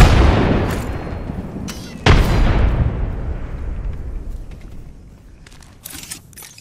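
A frag grenade detonates in Apex Legends, a sharp, loud blast near the start with a second heavy boom about two seconds in, each followed by a long rumbling decay that fades under faint scattered noises.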